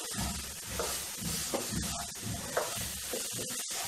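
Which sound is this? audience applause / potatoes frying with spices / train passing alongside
potatoes frying with spices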